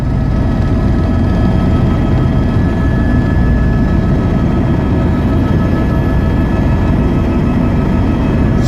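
Helicopter flying over the Kumbh Mela in Prayagraj, heard from inside as a loud, dense, continuous rotor and engine drone with a steady low throb.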